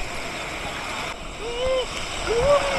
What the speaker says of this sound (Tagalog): tingnan niyo yung alon